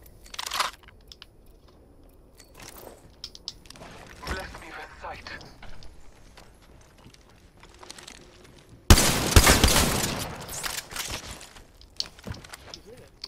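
Gunfire in Apex Legends Season 6: loud, scattered bursts of shots, the heaviest volley coming late, mixed with clicks and a voice talking over the game.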